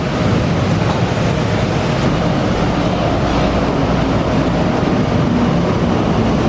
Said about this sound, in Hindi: किस्मत की बात है, मेरे आते ही ट्रेन मिल गई।